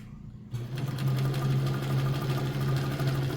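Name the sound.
Emdeko sewing machine sewing a satin stitch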